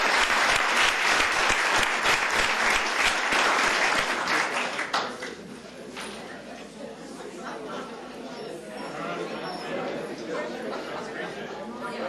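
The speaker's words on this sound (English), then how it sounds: "Let's give them a big round of applause." An audience at a county commissioners court meeting claps loudly for retiring staff, dense applause that swells at first then thins into lighter scattered clapping and murmured chatter.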